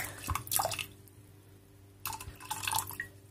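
Water splashes and trickles into a pot holding washed quinoa in two short, close bursts separated by a quiet pause, with no talk over it.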